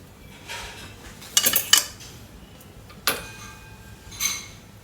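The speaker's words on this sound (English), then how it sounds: "So we mash the bananas well with a fork." A metal fork mashes bananas in a dish, with a few sharp clinks and scrapes against the bowl in uneven bursts, close and fairly quiet with no talking.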